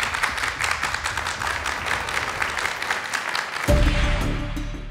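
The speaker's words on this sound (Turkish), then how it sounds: "Bir alkış gelsin hem mavi kalplerden hem sarı kalplerden." A studio audience on the Turkish family game show Aileler Yarışıyor claps steadily for several seconds, then music cuts in over the last second.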